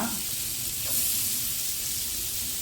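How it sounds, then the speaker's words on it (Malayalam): Chopped onion goes into hot butter with cumin seeds, setting off a loud, steady sizzling hiss that swells slightly and stays constant, with no talk. "എന്നിട്ട് അതിലേക്ക് നമ്മൾ അരിഞ്ഞ് വെച്ചിരിക്കുന്ന സവാള ഇടുക."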